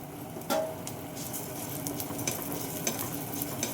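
Urad dal and coriander seeds dry roasting in a pan give a quiet, steady crackle with occasional sharper ticks and scrapes of a stirring spoon, close by and without talk.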